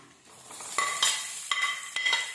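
Chopped onions and green chilies sauté in oil for a Kochi-style liver curry, a soft steady sizzle punctuated by several sharp metallic scrapes of a spatula against the pan.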